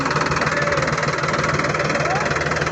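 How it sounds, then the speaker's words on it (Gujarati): A tractor engine runs steadily nearby while sowing a rice nursery, a loud, continuous rumbling drone with a rhythmic knocking throb. "ટ્રેક્ટર હાંકી રહ્યા છે જોઈ શકો છો"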